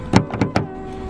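A 2022 Honda Accord Sport 1.5T being locked: three quick mechanical clunks of the door locks actuating in close succession, near and crisp, followed by a faint hum.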